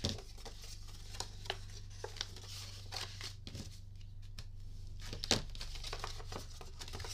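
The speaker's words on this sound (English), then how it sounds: "And then you're going to fold the sides in." Cardboard gift box sides being folded in by hand, a run of soft crinkling, creasing and tapping sounds with small irregular snaps, close up and without talk.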